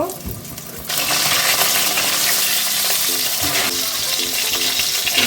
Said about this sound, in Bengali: তেল ঢাললাম, পটলগুলো ভেজে নেব